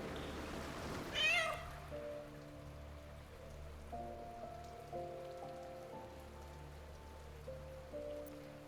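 A cat meows in Baldur's Gate 3: a rising, sharp meow near the start stands over a soft wash of rain and a low sustained musical drone, with no talking.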